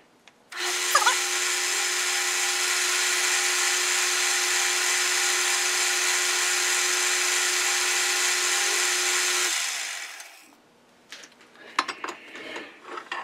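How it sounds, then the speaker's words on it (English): A power drill bores into metal for a mill chuck tapping collar, giving a loud, steady whine for about nine seconds before it winds down, followed by clanks and handling noises. "I'm probably going to drill down and bore somewhere close to an inch"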